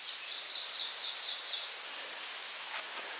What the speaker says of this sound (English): We're out here listening to these birds, these beautiful birds, the beautiful forest